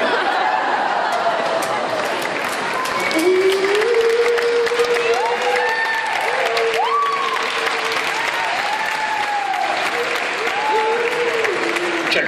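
Audience at an Italian comedy show breaks into sustained applause, loud and dense throughout, with chatter and scattered laughter mixed in and someone talking over the clapping.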